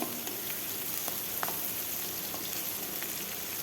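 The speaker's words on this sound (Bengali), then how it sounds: "তারপর ওই তেলেই দিয়ে দিলাম রসুন পেঁয়াজ কাঁচা লঙ্কা দিয়ে ভালোভাবে লঙ্কা পেঁয়াজ ভালোভাবে ভেজে নেব" Garlic, onion and green chili frying in hot oil give a steady, dense sizzle with faint crackles throughout, close and even, with no voices.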